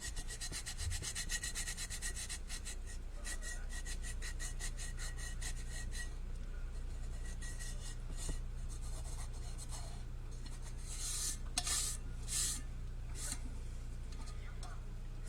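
Glitter being rubbed onto the bottom of a cup makes faint, repeated scratchy rubbing strokes close by, rhythmic at first and then more irregular, with quiet breathing and small handling noises.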